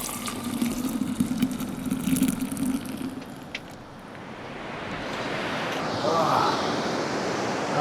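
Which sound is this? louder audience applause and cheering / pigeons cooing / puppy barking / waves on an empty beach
waves on an empty beach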